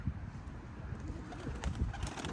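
Taklacı tumbler pigeons coo softly and repeatedly, with low, faint calls over a quiet outdoor background and no talking.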